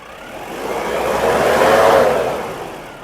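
A used car's engine is revved at a car dealership, with a single close rev that swells smoothly to a peak and then eases back down.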